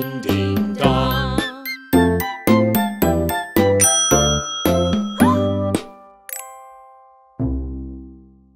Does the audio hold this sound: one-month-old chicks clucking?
no